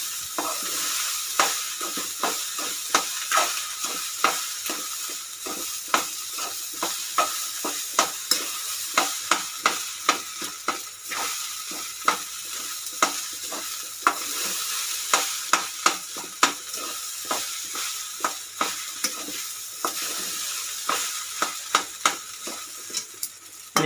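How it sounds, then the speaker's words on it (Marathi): Egg fried rice seasoned with salt and Ajinomoto being stirred and tossed in a pan, giving a steady run of scraping clinks and sharp spatula taps over a constant bright sizzle, close and fairly loud, with no voices. "सगळं टाकलं, सगळं एक मिक्स करून घ्यायचं आपण."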